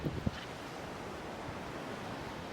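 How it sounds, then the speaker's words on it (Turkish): Ocean waves on a Thai beach, a constant broad wash of surf mixed with wind rumble on the microphone, steady and fairly loud, with no talking. "Arkada dalgalar inanılmaz bir şekilde."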